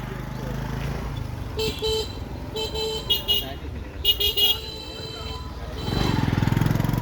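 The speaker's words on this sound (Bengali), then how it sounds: "দেখুন কত বড় জ্যাম লেগে আছে" Traffic jam on a village road with motorcycles and auto-rickshaws, engines rumbling continuously while horns toot in several short bursts, then an engine revs louder nearby toward the end.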